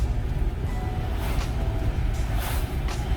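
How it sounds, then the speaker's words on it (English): Strong wind buffets a moving car on a flat open road, a steady low roar and rumble filling the cabin throughout, with brief airy gusts rising over it. "Look how windy it is out here."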